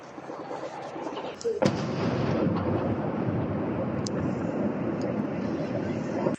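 A gunpowder plant in Tambov region, struck by drones, gives off a sudden deep boom from a distance, followed by a sustained low roar of fire and wind.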